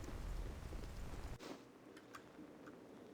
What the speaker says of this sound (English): Oh, that's why I kept hearing, like, the rain.